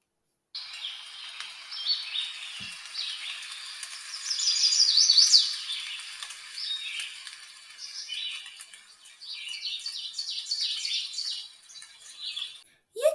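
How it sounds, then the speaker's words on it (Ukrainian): Birds chirp and sing continuously in overlapping high, twittering phrases in an autumn forest, fairly close, with a soft background hiss of rustling leaves and breeze, and no talking. "Як співають птахи, як шурхотить листя, як шумить вітерець."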